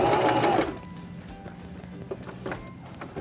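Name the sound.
Singer Start 1306 sewing machine stitching a buttonhole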